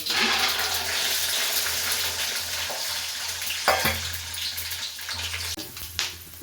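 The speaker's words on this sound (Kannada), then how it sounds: "ಇವಾಗ ನಾನು ನೋಡಿ ಕಡಲೆ ಬೀಜ ಹಾಕ್ಕೊಳ್ತೀನಿ" Peanuts fry in hot oil in a pan, giving a loud sizzling and crackling hiss near the microphone with a few clattering stirs and bumps toward the end.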